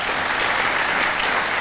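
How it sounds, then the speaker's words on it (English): Steady applause from an audience, dense and continuous clapping throughout with no voices standing out. "Stop clapping."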